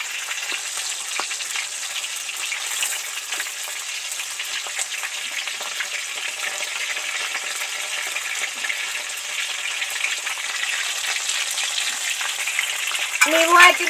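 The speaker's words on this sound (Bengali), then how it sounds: "মাছগুলো ডিপ করে ভেজে নিলাম" Pieces of barramundi deep frying in hot oil, giving a steady, close sizzle and crackle that carries on without a break for the whole stretch.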